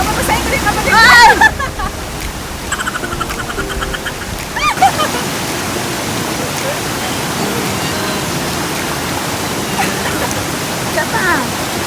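Nikobuchi waterfall in Japan pours in a steady broadband rush of falling water, loud and close, with brief splashing and a voice near the start.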